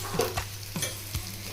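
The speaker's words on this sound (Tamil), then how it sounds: "ஆனியன் இந்த அளவுக்கு ஃப்ரை ஆனதுக்கப்புறமா நம்ம சாப் பண்ணி வச்சுருக்க டொமேட்டோவை இந்த சேர்த்துக்கலாம்." Onions fry in a pan as chopped tomatoes are added for a mushroom gravy, giving a soft, steady sizzle with a few quiet stirring knocks close by.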